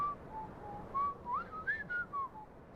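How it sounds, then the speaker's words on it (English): A lone voice whistles a wandering theme-song melody in short rising and falling phrases, fairly close and moderately loud over a steady low background hum, with no talking. "The whistling of theme songs."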